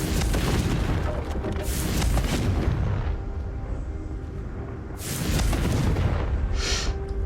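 Confringo spell blasts in the Hogwarts Legacy video game land as deep, rumbling booms, two heavy swells of explosive noise with a sharp burst near the end, loud and continuous.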